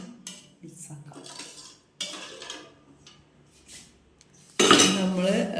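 A coconut fish curry is stirred in a pot, with several bursts of metal utensils scraping and clinking against the vessel, one louder clatter near the end, and short quiet gaps between them.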